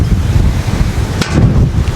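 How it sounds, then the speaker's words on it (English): Strong Santa Ana wind in Southern California buffets a DJI Mic Mini microphone, producing a loud, continuous low rumble with gusty surges and a sharp burst of buffeting near the middle. "the wind is crazy."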